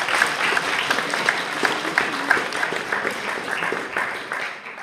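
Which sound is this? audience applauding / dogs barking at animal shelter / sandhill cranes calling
audience applauding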